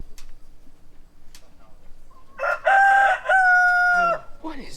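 A rooster crows once, loud and close, a drawn-out call after a few faint clicks and quiet background noise, on a vegetable farm during a potato harvest.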